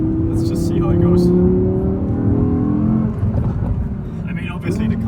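An Audi drift car accelerates on a test road, its engine note rising and droning loudly up close, then settling into a rougher rumble, with someone talking over it.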